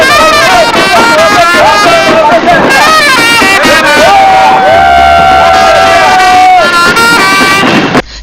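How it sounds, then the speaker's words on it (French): Large crowd at an election campaign rally on the first day of campaigning, loud continuous cheering and singing with whoops and sustained chanted tones throughout. "le candidat s'est adressé à la foule qui l'a accompagné ce premier jour de campagne"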